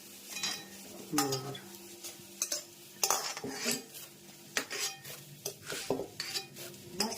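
Puffed rice being stirred in a pot with oil and turmeric, close-up scraping and clinking of a metal spoon against the pan in irregular strokes, with a faint sizzle underneath.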